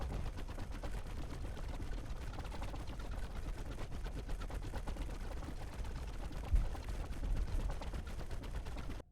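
Weapons in the space game X4 fire nonstop in a dense, rapid rattle of shots with no pauses, with one slightly louder burst near the end.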